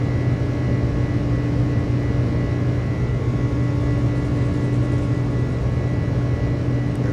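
iniBuilds Airbus A300 engines held at takeoff power in a flight simulator, a steady, loud broadband roar with a constant low hum and whine, continuous and unbroken with no talk over it.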